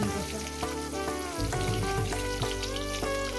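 Whole boiled eggs fry in hot oil for a spicy egg curry. A soft, continuous sizzle lies under prominent background music, with a few light scraping taps.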